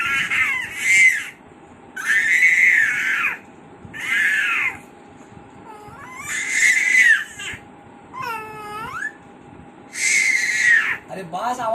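A young child wails and screams indoors in repeated, drawn-out high-pitched cries, about six loud bursts over several seconds separated by short gaps, with faint background hum.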